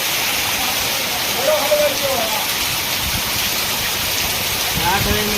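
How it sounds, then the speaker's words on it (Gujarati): Monsoon rain in Palitana pouring steadily, a continuous hiss of falling water with faint voices talking underneath. "વરસાદ પડ્યા."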